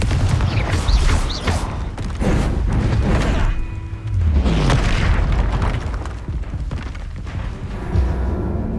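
A Confringo fire spell explodes in Hogwarts Legacy on PS5, a loud booming blast that rumbles among dense, continuous game effects and mechanical creaks, with a second heavy burst partway through.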